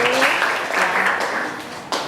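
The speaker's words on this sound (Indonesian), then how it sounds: "Beri tepuk tangan." A school class applauding in a classroom after a maths lesson, with fairly close, steady clapping that fades slightly before a sharp burst near the end, and a voice speaking briefly at the start.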